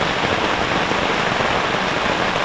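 Steady rain falling outdoors, a dense, even hiss that stays close and unbroken throughout, with no voices.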